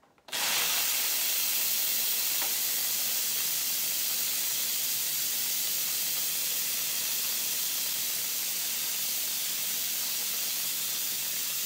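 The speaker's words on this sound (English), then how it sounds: "So let's watch the steam release. It's going to be a little bit loud." A pressure cooker blasts out its steam release as a loud, continuous hiss that starts abruptly and holds steady at close range, with no talking over it.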